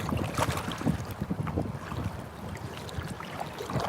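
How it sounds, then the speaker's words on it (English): Strong wind and waves at least a foot high wash around a Wilderness Systems Tarpon kayak on open water, heard as steady gusty roar and irregular splashing close to the hull. "I'm out here in these really windy conditions, and these big waves"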